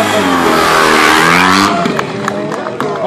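A BMW 800 enduro motorcycle's engine revs hard and holds a loud, rising roar as the rider pulls the front wheel up into a wheelie, then drops off into choppy, uneven throttle blips.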